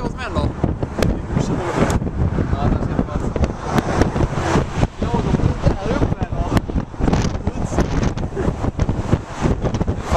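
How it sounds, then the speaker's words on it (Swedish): Strong wind in Los Angeles buffeting the microphone, a loud, gusty rumble that rises and falls throughout while people talk over it. "Det blåser ganska kraftigt tillfället."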